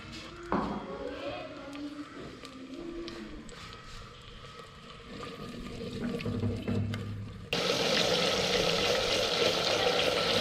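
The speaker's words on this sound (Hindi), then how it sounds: "3 से 4 मिनट इस मसाले को मैंने मज़ीद फ्राई कर लिया है" Masala for chicken curry fries in a pan, a soft steady sizzle with occasional stirring scrapes; a louder, brighter hiss swells up near the end.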